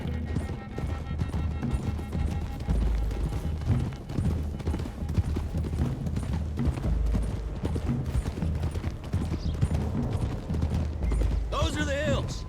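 Horses' hooves clip-clop steadily in Red Dead Redemption 2 as several riders move along a hillside road, a continuous rhythmic trot under music and game sounds, with a whinny near the end.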